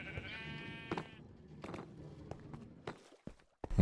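Sheep bleating in the video game Minecraft, one wavering bleat at the start followed by scattered footsteps and soft clicks, fairly close with no talk.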